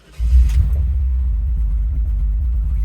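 A 1967 Chevrolet Nova SS with a 350 small-block V8 roller motor fires up: a loud, abrupt catch settles straight into a deep, steady, close-up idle rumble.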